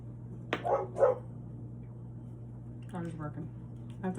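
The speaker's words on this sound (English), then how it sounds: "Dog is barking." Dog barking in a home kitchen, two quick barks near the start and a couple more later, with speech in between.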